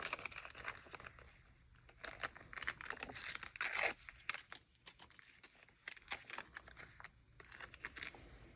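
A strip of tape is torn off for a journal page, a close, quiet run of sharp tearing and rasping crackles, with a stronger burst midway and small handling clicks around it.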